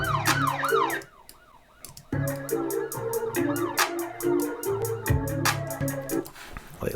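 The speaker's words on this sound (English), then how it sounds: "There's a cop siren." A police siren sound effect wails in rising and falling sweeps inside a hip-hop beat, layered over heavy 808 bass and steady rhythmic hits, loud and up front throughout.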